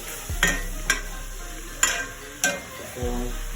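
Stickyaki chicken sizzles in a hot pan with a steady frying hiss, broken by a few sharp stirring scrapes and clinks.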